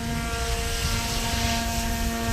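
Helicopter rotor blades spin with their tracking checked, a steady loud droning whir with a constant engine hum beneath, continuous and close with no pauses.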